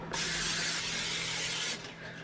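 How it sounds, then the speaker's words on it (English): Cooking spray hisses from a can onto a baking pan in one sustained burst of about a second and a half, close and fairly loud, then tapers off. "now I'm going to go ahead and spray down the pan"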